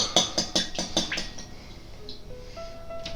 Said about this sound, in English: the oil in first, and mix it